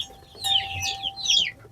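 Chickens clucking on a Lao farm, two short bursts of bright clucks close by over low background noise, with a faint steady tone underneath.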